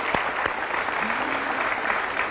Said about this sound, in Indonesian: Boleh tepuk tangan untuk teman-teman dari SMA Muhammadiyah 18 Jakarta.